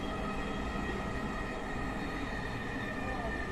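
A metro rail train runs with a continuous loud rumble and whine, as heard on the new urban rail line, and a voice talks throughout over the noise.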